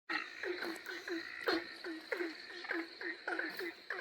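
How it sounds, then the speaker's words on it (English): An Australian green tree frog calling from a tree by a pond in Central Queensland, repeated deep nasal croaks in quick pulsing runs, close and prominent over a steady insect drone. "Here in this tree we have a beautiful green tree frog calling."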